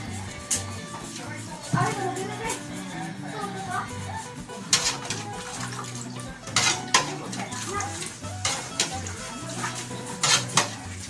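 Dishes, pots and pans being washed under running water at home, with steady splashing, repeated clinks and sharp clatters of cookware and cutlery, and voices talking now and then in the background.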